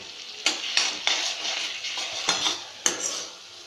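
Spice masala paste for a dried-pea curry is stirred and fried in oil, a steady sizzle broken by repeated sharp spoon scrapes and clinks against the pan, close up with no voices.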